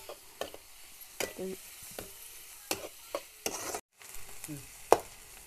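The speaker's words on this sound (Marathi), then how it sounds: "आता चांगला परतून घेऊ चांगला लाल होईपर्यंत परतून घ्यायचा" Onion sautéing in a pan until reddish: a quiet sizzle broken by irregular spatula scrapes and taps against the pan, close by, with no voices.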